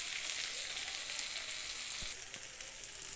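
Ground spices with tomato, chilli powder and turmeric fry in a pan, making a close, bright, steady sizzle, with a few soft low knocks from stirring near the end.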